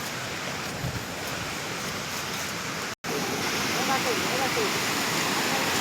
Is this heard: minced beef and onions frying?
no